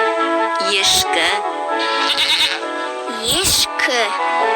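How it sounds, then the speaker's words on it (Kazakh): A goat bleats up close in three wavering, quavering calls separated by short pauses. "Ешкі."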